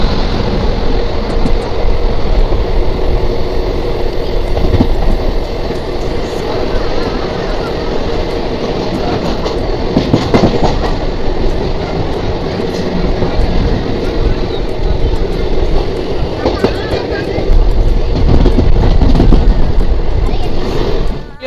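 A Jammu Tawi–Kolkata summer special train runs along near Roza Junction, heard from inside a sleeper coach as a loud, steady rumbling roar with rattling and clatter throughout, and a voice speaks over it.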